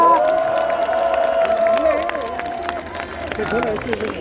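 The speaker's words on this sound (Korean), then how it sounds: "뜨거운 박수 부탁드리겠습니다." A crowd at an outdoor political campaign rally at Pyeongtaek Station claps and cheers as the party leader is introduced, with amplified speech and echoing voices ringing over the steady crowd noise.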